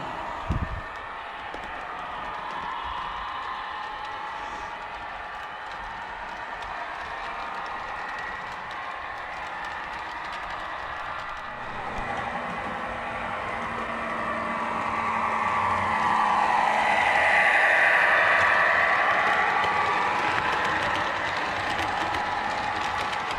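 An MTH Genset 3GS21B O gauge model diesel locomotive runs on a UK DC layout, giving a steady mechanical whir and gear rattle throughout that grows louder and higher toward the end as it speeds up, with no talking.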